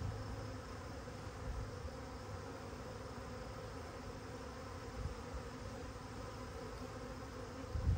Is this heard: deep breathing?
no